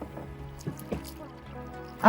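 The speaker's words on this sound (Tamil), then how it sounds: "தண்ணி ஊத்துட்டுமா?" Water poured into a cooking pot holding peas and potatoes for a Chettinad vegetable masala, a soft trickling splash at close range with a few faint clinks, ending in a louder burst at the end.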